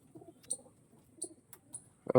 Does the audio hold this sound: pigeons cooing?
yes